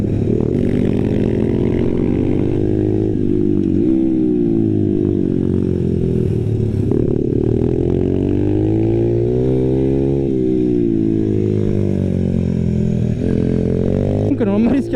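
A loud 125cc pit bike motard engine roars steadily on a track, its pitch rising and falling as the bike accelerates and brakes, with wind rush throughout.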